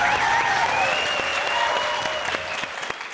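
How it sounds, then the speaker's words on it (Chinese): A studio audience at a television quiz show claps steadily to welcome a contestant, with sustained applause and a bright tonal jingle sounding underneath. "来，掌声欢迎赖之宇。"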